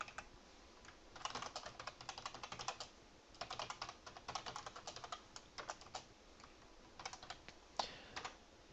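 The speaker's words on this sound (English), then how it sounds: "having troubles with my keyboard here." Typing on a computer keyboard, close and clear, with bursts of rapid key clicks broken by short pauses throughout, no voices.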